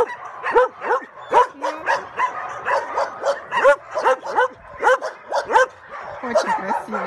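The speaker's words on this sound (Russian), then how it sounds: "Восьмой вольер, собаки все как на подбор." Several dogs in a kennel enclosure at an animal shelter bark and yip over and over in quick, irregular bursts, loud and close, with a few whimpers mixed in.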